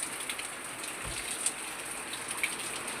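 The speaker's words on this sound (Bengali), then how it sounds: "দেখেন কি সুন্দর করে বৃষ্টি পড়ছে" Rain falls steadily in front of a village house, a soft continuous hiss of drops with a few louder splashes, no voices.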